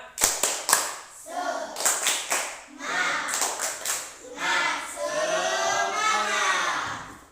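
A school class claps together in a quick rhythmic spirit-clap pattern of bursts, then voices call out in unison, loud and close.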